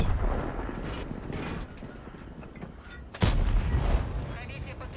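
A tank cannon booms in World of Tanks, one heavy blast standing out over continuous rumbling battle noise and earlier muffled shots, with someone talking quietly in the background.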